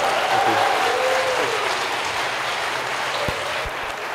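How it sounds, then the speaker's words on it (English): Sustained applause from a live audience greeting a speaker at a technology talk, a dense steady clatter of clapping with no voices over it. "put your hands together for Andrew Ng"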